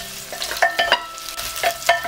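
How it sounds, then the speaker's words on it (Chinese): Sichuan peppercorns, scallion, ginger and garlic stir-fried in cooking oil in a clay pot, with repeated scraping spatula strokes and light clicks over a low, continuous sizzle, close and fairly loud, no voices. "加入食用油，加入一小把花椒，小火将花椒煸香，出花椒味之后加入葱姜蒜"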